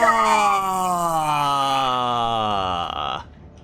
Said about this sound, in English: This is the sound of when the Zealots die.